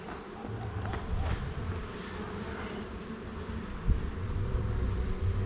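Honeybees buzzing around hives in a garden apiary, a soft steady drone of many insects close by, faint and continuous, with a light breeze and occasional nearer passes of single bees.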